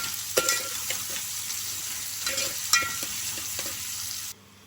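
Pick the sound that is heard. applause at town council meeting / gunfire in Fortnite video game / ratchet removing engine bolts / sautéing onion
sautéing onion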